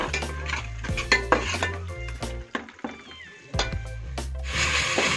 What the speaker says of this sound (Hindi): प्याज हमारे अच्छे से भुन रही है